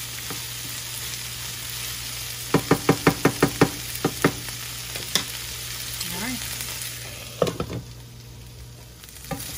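Onions and vegetables fry steadily in a pan, a continuous sizzle broken by a quick series of sharp utensil knocks against the pan and a few later scrapes, close and fairly loud, with no talking.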